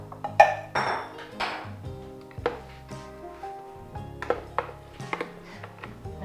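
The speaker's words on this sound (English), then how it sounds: "you can take this spoon Okay. and scrape all of the green beans into this container here" A spoon scrapes and clinks against a container while green beans are scooped in, with several sharp metallic clinks and ringing taps at irregular intervals over a quiet background.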